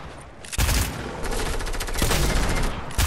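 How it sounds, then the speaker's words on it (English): Dense bursts of rapid gunfire from Fortnite, loud and close, with rattling automatic shots running almost continuously and a short lull before another volley. "You shot me through the wall!"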